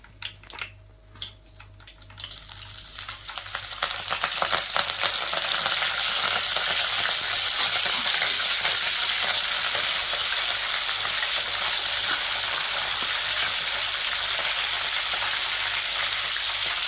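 Mustard seeds and curry leaves sizzle and crackle in hot oil while a dried vanjaram fish thokku is cooked. After a quiet start the frying rises into a loud, steady, close hiss with dense popping, and no one speaks.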